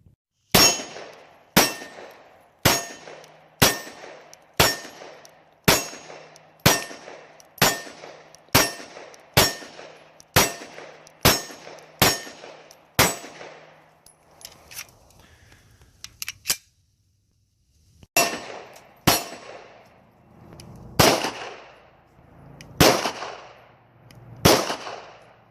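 A Hudson H9 pistol fires a string of sharp, loud shots at an outdoor range. Each shot rings against steel targets at about 47 yards. The shots come in a rapid, evenly spaced series, then a pause, then a few more spread out.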